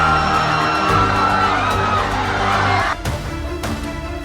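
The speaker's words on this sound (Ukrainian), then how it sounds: "Люди завмерли на мить, а тоді, ухоплені панікою, почали кричати і розбігатися то куди." Panicked crowd in a cartoon, a dense mass of screaming and yelling voices held steady and loud over a music-like tonal bed, thinning slightly near the end.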